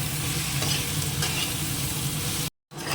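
Ridge gourd and potatoes with salt and turmeric cook in a pot, giving a steady close bubbling sizzle with faint stirring scrapes that breaks off briefly near the end.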